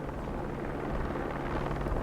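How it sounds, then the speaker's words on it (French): A helicopter carrying game wardens passes overhead in open country, a steady, fairly loud rotor rumble that holds evenly throughout with no voices. "le son d'un hélicoptère perce le silence"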